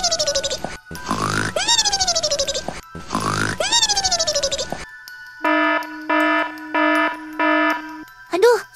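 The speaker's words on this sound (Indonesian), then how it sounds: "suara alarm apa ini?" At night in Sakura School Simulator, an alarm gives two loud wailing sweeps that rise and fall, then a string of five steady, evenly spaced electronic beeps, each ringing alone and close.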